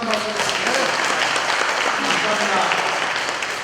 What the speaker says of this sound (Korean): 아주 아름다운 우리 고유 가락을 연주해 주신 분들에게 다시 한번 힘찬 박수 드립니다